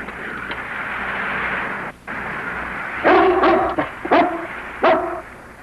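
Small dog barking in a dubbed Jerry Lewis comedy film, several sharp yips in quick succession after a stretch of background noise.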